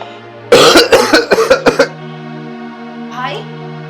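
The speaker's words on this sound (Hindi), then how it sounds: "थोड़ी सी खांसी यार अभी आ रही है" A series of about six sharp, close coughs from a person clearing their throat in quick succession, followed by a quiet pause and a faint voice near the end, over a steady low hum.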